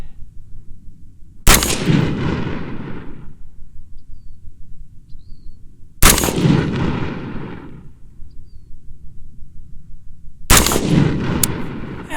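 An M&P-15 Sport rifle fires three loud, sharp gunshots spaced several seconds apart at an outdoor range, each crack followed by a short fading echo over a steady background rumble.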